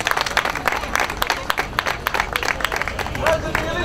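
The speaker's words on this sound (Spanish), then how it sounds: "Fuerte el aplauso entonces para don Miguel Bustamante" Audience applause honoring Don Miguel Bustamante at a Spanish-language recognition event, dense crowd clapping with sharp individual claps standing out close by, steady throughout with faint crowd murmur.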